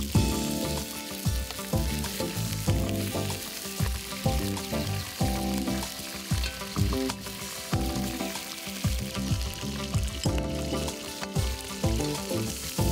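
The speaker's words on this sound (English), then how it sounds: "In a frying pan, he pours the oil. When it starts sizzling, he puts in the pieces of chicken" Pieces of chicken browning in hot oil in a frying pan for a Reunionese dish, a continuous crackling sizzle with occasional stirring, alongside steady tonal sounds that run through the whole stretch.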